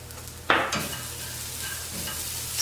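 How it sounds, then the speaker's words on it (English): Garlic and onions are stirred in a pan on a stovetop, a sharp scrape of a utensil followed by a steady close sizzle with no talking. "Stir this around a bit,"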